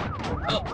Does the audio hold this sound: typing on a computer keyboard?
no